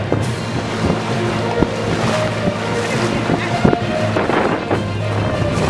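A boat's steady engine drone on open water, with wind buffeting and waves washing past; faint voices now and then.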